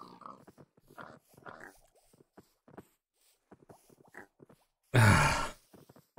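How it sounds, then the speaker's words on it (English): Pigs in a video game give a string of short, low grunts and snorts at irregular intervals, then a sudden loud, harsh burst near the end before fading back to quiet. "Did someone breed pigs while we were riding them?"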